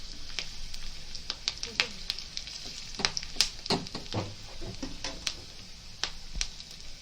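Spices for dal tempering crackle and sizzle in hot oil, sharp pops and spatters over a steady frying hiss, close up.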